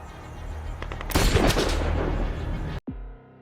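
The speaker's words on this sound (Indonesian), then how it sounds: "Untungnya Brandon melakukan tembakan terakhir dan berhasil menyelamatkannya" Gunfire erupts in an action film scene: a rumbling background swells into a loud, dense burst of rapid shots and booms lasting nearly two seconds, then cuts abruptly to quieter ambience.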